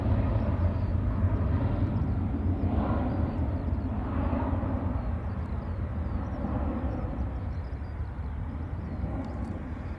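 A Ryanair airliner at Dublin Airport rumbles in the background, a low, steady, moderately faint drone of engine noise that slowly fades over the span.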